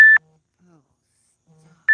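Two short, bright Instagram notification beeps from a phone, one at the start and one at the end, separated by near silence with faint low murmuring between.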